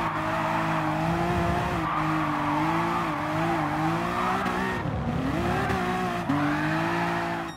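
Honda NSX in Gran Turismo Sport sliding through a corner with oversteer, tires squealing loudly and steadily while the engine holds a high wavering whine, no talking.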